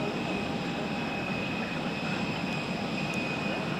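Jet airliner taxiing along a taxiway at Zurich Airport toward a runway holding point, a steady loud engine roar and hiss holding unchanged throughout.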